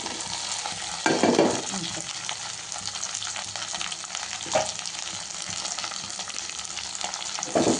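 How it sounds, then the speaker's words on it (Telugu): Capsicum pieces fry and sizzle in golden ginger-garlic paste, with a spatula stirring and occasional louder scrapes over a continuous hiss, no talking. "క్యాప్సికమ్ ముక్కలు వేసి ఇట్లా కలవాలి."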